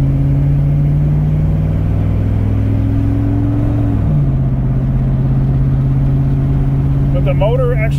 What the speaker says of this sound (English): But the motor actually runs very well.